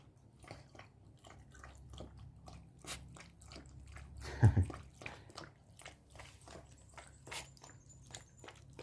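A puppy crunches and chews its food up close, with repeated quiet bites and one louder crunch midway, over a low steady background hum.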